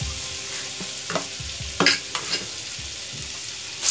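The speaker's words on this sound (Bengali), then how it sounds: "এবার আমি কড়াইতে বাটার দিয়ে দিলাম।" Butter melting and sizzling in a wok with a little oil, a steady quiet frying hiss broken by a few sharper crackles and spatters, with no talking.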